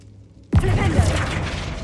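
A Flipendo knockback spell hits in Hogwarts Legacy with a sudden loud impact after a quiet moment, followed by a crashing, shattering burst that rings out briefly.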